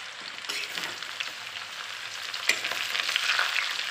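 Elephant apple pieces frying in a pan for pickle, a steady close sizzle with scraping stirring sounds and occasional clinks of a spoon against the pan.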